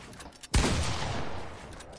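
A single loud, close shotgun blast from Fortnite zone wars gameplay hits suddenly and leaves a long, noisy decaying tail, over faint background game sound.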